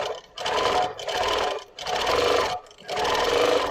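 A Moxie XL 18-inch longarm quilting machine stitches in free-motion bursts, four close, steady runs of rapid needle whir separated by short pauses.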